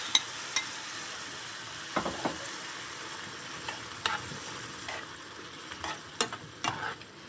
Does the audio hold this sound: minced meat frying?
yes